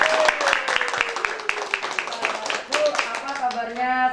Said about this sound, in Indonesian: Tepuk tangan sekali lagi untuk Ibu.